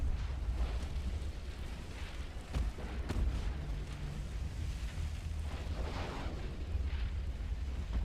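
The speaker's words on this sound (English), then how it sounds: "More torpedoes firing." Naval warfare in Ultimate Admiral: Dreadnoughts, with torpedoes being fired amid a low rumbling battle ambience, a few dull thuds and sharp reports scattered over a steady background roar.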